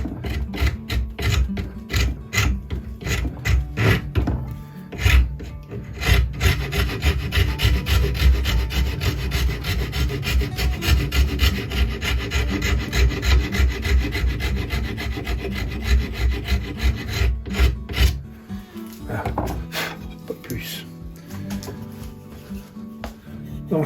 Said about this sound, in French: À la râpe à bois.